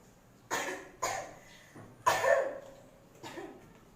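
A person coughs to bring up a sputum sample: four separate, fairly close coughs spaced about half a second to a second apart, the third strongest, in a quiet room.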